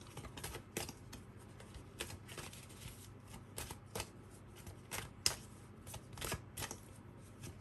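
A deck of energy oracle cards shuffled continuously for a karmic card reading, giving soft riffling and flicking with repeated sharp card snaps, close and fairly quiet, no talking.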